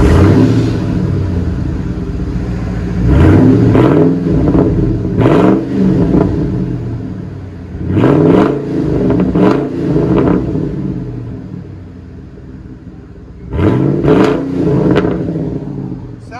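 A supercharged 5.4L V8 Ford F-150 Harley-Davidson pickup revs repeatedly in the rain, loud close bursts of exhaust rising and falling in several separate pulls with pauses between them.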